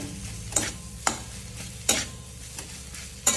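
Dabeli filling stirred in a pan over the flame, a low sizzle broken by four or five distinct scrapes of the spoon at uneven intervals, close and clear with no talking.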